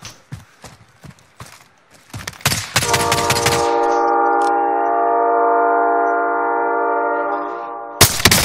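In the video game Warzone, a train clatters past in rapid thumps, then a loud sustained horn blares for several seconds before cutting off, with another burst of rumble at the end.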